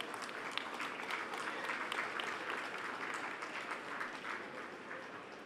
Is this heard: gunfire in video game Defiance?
no